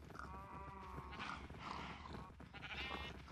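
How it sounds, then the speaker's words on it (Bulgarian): Sheep bleating in the Minecraft video game, several wavering bleats overlapping in quick succession, fairly loud and continuous throughout with no talk. "просто самия шум на овцета най-много ме дразни"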